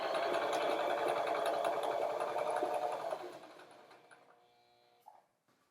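Close sewing machine stitching along fabric in a steady continuous run for about three seconds, then slowing and fading out, ending with a small click.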